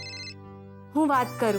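A mobile phone ringtone rings in a short repeating electronic melody, then stops as a person answers and speaks briefly.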